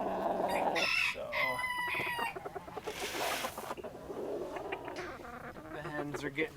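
Hens cluck and a rooster crows on a small farm during winter chores, with bursts of bird calls interrupted by a voice talking nearby.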